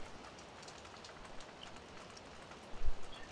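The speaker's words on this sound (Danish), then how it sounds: "Så skal vi ovenikøbet stå ude i regnen og gøre den." Rain falling in Farming Simulator 17 on the Vogelsberg map, a steady soft hiss of drops with a brief low thump near the end, faint and with no talking.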